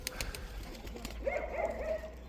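Pigeons coo inside a pigeon loft on an autumn day, a few soft throaty calls rising near the end over faint background noise and light knocks.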